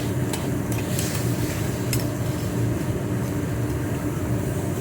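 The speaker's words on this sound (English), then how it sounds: "shrimp, 3 pieces, you're gonna sear both sides" Shrimp and calamari strips searing in a hot pan, a steady loud hiss and crackle of frying that runs unbroken throughout, with no voices.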